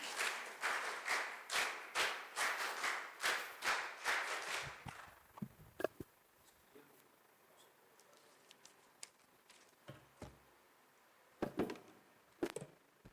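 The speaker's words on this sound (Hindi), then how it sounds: "वीर ताली बजाएंगे" A group of girls at a character-building camp performs the rhythmic 'veer taali' clap: about a dozen sharp, evenly spaced unison claps, then scattered faint claps and small handling noises in a quieter room.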